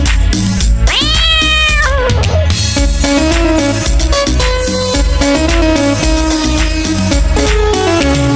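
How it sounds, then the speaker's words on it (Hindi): A cat's meow, drawn out and rising then falling, sounds near the start of a Hindi children's nursery rhyme and is set over loud, bright backing music that continues throughout. "मुझे बिल्ली ने जगाया, बोली म्याऊ म्याऊ म्याऊ।"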